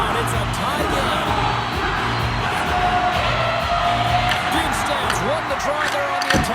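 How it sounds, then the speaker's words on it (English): Hockey arena crowd in the NHL 26 video game keeps up a steady, loud roar with cheering and whoops, while a commentator's voice talks over it. "Here in the late goings of the period, you can feel the energy in this crowd."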